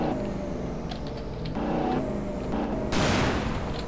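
Gunfire and explosions from the video game GTA San Andreas, set in a Los Angeles police patrol, come as scattered distant pops and a louder blast near the end over a background din.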